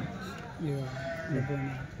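Two loud, wavering sheep bleats sound close by at a livestock market in Kadiri, one after the other, over a murmur of background voices.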